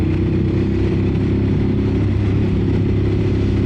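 A Ducati Monster 950 Plus engine drones steadily and loudly while the bike is ridden on twisty B roads, a continuous rumble with no breaks and no voices.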